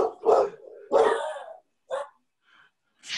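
A dog barks loudly and close by, two strong barks followed by a shorter yip, a faint sound and a final bark, with quiet gaps between them.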